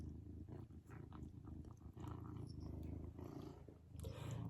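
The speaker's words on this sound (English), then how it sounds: "Can you hear him purring, guys?" A cat purring steadily up close, a soft continuous rumble with slight rhythmic swells.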